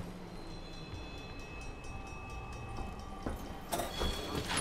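Steady rumbling of a moving train in the video game Call of Duty: Black Ops III, a continuous rolling drone with faint tonal hums, swelling with a louder metallic burst near the end.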